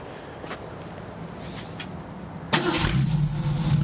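A 1968 Ford Mustang V8 is heard from behind the car. Low background hiss comes first, then the engine fires abruptly and settles into a loud, steady, rumbling idle.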